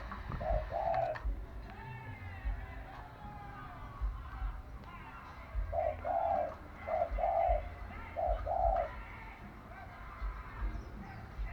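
A dove coos several times in short rounded phrases, close and clear, over a low background of ambient noise and occasional faint chirps.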